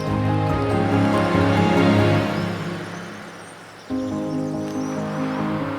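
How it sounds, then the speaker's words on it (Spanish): Broad steady rush of the Tera river flowing along the Vía de la Plata Sanabrés route between Mombuey and Lubián, loud and continuous, dipping briefly before swelling back. "Este sigue siendo el río Tera"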